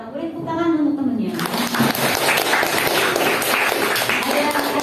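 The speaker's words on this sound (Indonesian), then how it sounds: "Boleh tepuk tangan untuk temennya" A teacher speaks briefly, then a classroom of students breaks into lively clapping for a classmate, with scattered voices mixed in, continuing until the sound stops abruptly.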